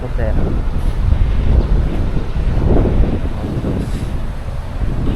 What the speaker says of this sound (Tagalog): malakas ang hangin, lamig